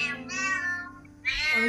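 Cats meow indoors in two close, clear, drawn-out calls separated by a short quiet gap.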